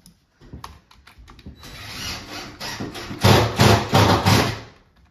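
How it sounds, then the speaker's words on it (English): Drills whir and rattle in a restroom in the Roblox video game, starting with scattered clicks and knocks, then swelling into a loud, pulsing mechanical grind with several strong surges before cutting off. "These crazy drills."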